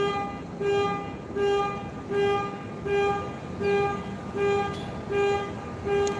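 A nearby car horn beeps over and over in a steady rhythm, about eight evenly spaced honks, loud and close with faint street noise between them.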